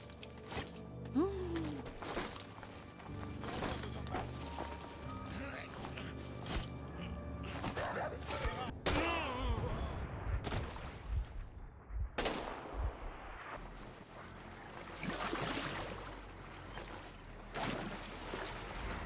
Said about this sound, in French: on tire comme ça au milieu de nulle part alors que c'est irradié